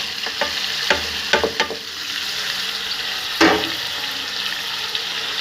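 Chopped garlic and ginger fry in a karahi of chicken karahi, giving a steady hiss and sizzle broken by a few sharp clinks and scrapes of stirring, with no talk.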